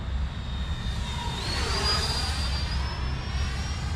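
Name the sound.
FMS Integral 80mm EDF model jet flying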